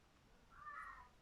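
A pet cat gives a single faint, drawn-out meow in the background of a quiet room, rising and falling over under a second.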